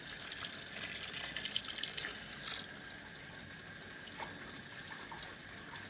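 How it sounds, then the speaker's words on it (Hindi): Boiled chickpea water is poured into a cooking pot, a steady gushing splash that runs continuously at close range with no talk. "चने का पानी जब मैं बखरे बखरे किया ना, पहले चने तो फिर बाद पानी है। ये पानी डालने लगी"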